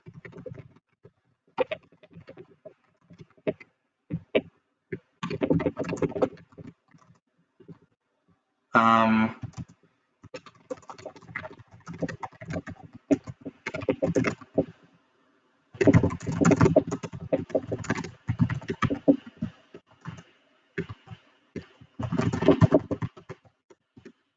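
Bursts of typing on a computer keyboard, clicky keystrokes in quick runs separated by pauses, fairly close and alone with no talk.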